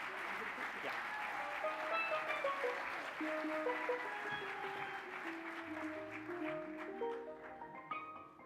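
Loud, sustained applause fills a large hall at the 2018 Shingo Awards Gala in Orlando, Florida, continuous crowd clapping with a few tonal music-like lines running beneath it throughout.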